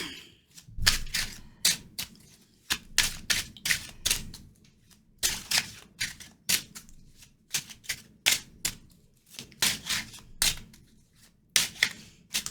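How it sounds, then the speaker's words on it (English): Cards are shuffled in repeated quick, crisp bursts, each lasting a moment and separated by short pauses, close and clear with no talking. "So I'm going to shuffle the cards."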